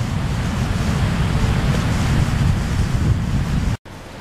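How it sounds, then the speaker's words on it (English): Floodwater of the Nith River in Ontario, swollen to a record February high, rushes in a steady, loud broadband roar mixed with wind buffeting the microphone, cutting out briefly near the end. "Nith River, February 2018. I think she's gonna rise even more."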